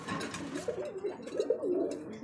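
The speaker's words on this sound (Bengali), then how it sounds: "কবুতর ফুল অ্যাক্টিভ সুস্থ" Racing pigeons of several fancy breeds coo in a loft, a few soft rolling calls repeating close by, with light background noise and brief talk early on.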